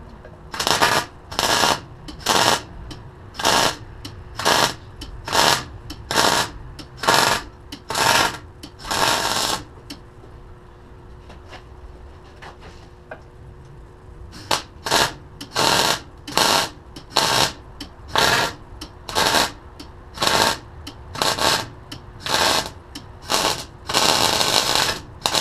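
MIG welder filling metal on a Kawasaki KZ440 bobber build: short bursts of crackling arc repeat in a steady rhythm, close and loud, with a quiet pause in the middle before the bursts resume.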